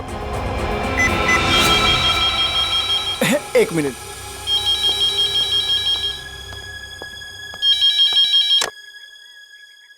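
A telephone rings in repeated bursts of electronic trills while a child, trapped in a stuck lift, speaks briefly over it; low rumble underneath fades out before the last ring.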